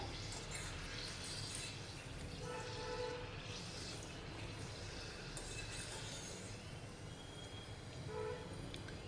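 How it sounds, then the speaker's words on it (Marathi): Cheese butter shankarpali frying in hot oil, a dense continuous sizzle and crackle with scattered pops, close and fairly quiet. "तर आता आपण हे फ्राय करून घेऊया तेल बघा चांगलं तापलेलं आहे"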